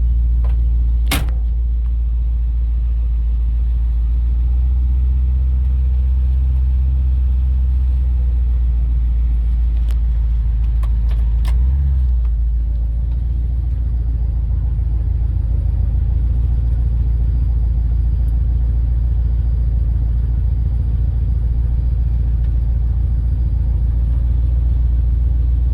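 A 1956 Dodge engine with new mufflers idles with a deep, steady low rumble, close and continuous, with a few brief knocks and clunks early on.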